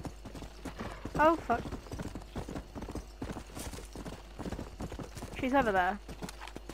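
Hooves of a zombie horse clip-clop steadily in the Undead Nightmare game, with a brief whinny, under a person talking nearby.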